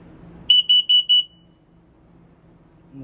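Carbon monoxide and LP gas detector in a 2023 Forest River No Boundaries travel trailer sounds four quick, loud, evenly spaced high-pitched test beeps close by, followed by quiet room tone.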